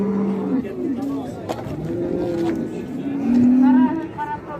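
Cattle at a livestock market low and moo in several drawn-out calls, one long and loud near the end, against the murmur of a busy crowd and nearby talking.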